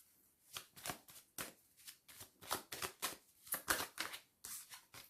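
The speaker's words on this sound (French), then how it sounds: "Allez, je vais recouvrir quelques cartes." Playing cards for a tarot-style guidance reading are shuffled and laid out in a quick series of crisp riffling bursts with short pauses between them, close and fairly quiet, with no talking.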